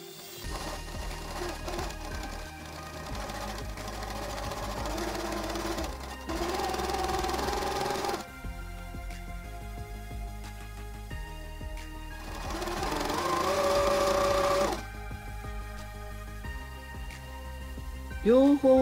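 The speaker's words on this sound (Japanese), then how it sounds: "ミシンをかけます" A sewing machine stitches along a folded apron strap in several bursts of rapid mechanical whirring, with short pauses between runs, close and clear.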